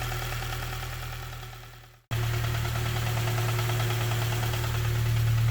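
A K-swapped Honda Civic engine idles steadily with a fast, even ticking from the injectors over a low hum, cutting out for a moment before restarting at a steady, slightly louder idle.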